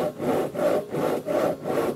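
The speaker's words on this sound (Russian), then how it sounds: "Вот купили новую пилу." A new hand saw rasps steadily through wood in repeated back-and-forth strokes, about four even pulls, close and loud with no talking.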